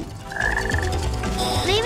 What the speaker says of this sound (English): Oh, look, a good frog.